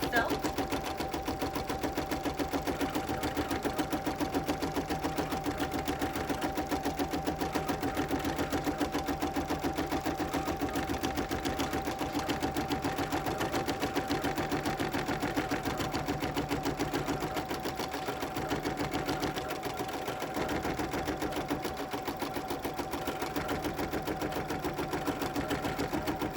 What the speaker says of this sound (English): now I'm gonna let the machine do the tack down of the felt